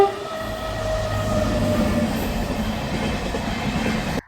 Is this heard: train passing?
yes